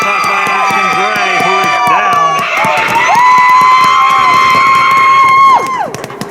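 Spectators at a senior-night 7-on-7 varsity football game cheer, whoop and shout loudly, with rising yells and sustained shrieks from nearby fans over a noisy crowd.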